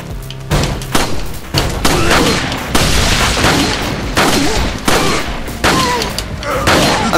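Dense gunfire and booms from the video game Resident Evil 4, continuous and loud throughout, with players' voices faintly mixed in.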